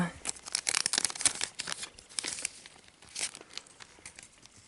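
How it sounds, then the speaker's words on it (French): Japanese Pokémon booster packs are torn and crinkled open by hand, giving dense bursts of crisp foil rustling and tearing that come close and fairly loud, with brief pauses between. "les boosters japonais sont difficiles à ouvrir à la main. Il faut automatiquement des ciseaux"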